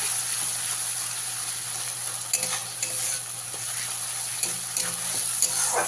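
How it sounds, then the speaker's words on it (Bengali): Black cumin and onion paste frying in oil in a pan, a continuous close sizzle broken by repeated scraping stirs of a spoon throughout, no talking. "কালো জিরে আর পেঁয়াজটাকে ভালো করে ভেজে নিতে হবে"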